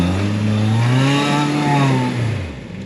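A new trials motorbike's engine revs hard while climbing big rock slabs, a loud near drone sweeping up and then easing down as the throttle closes at the end.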